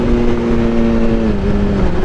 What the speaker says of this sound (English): I love hearing the exhaust at wide open throttle.